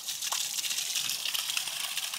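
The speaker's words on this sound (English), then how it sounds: "It'll just start shooting water" Water gushes steadily from an aquaponics bell siphon as the grow bed drains, a continuous close rushing and splashing that holds at an even level throughout, with no talk.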